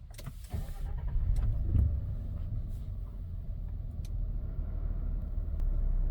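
A 2023 Nissan Frontier Pro-4X truck starts up, a brief cranking burst giving way to a low steady idle rumble heard close by, with a faint click or two over the engine.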